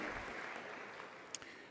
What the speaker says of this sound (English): Let's clap for her also for a unique name